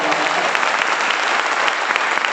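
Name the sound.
audience applause at a meeting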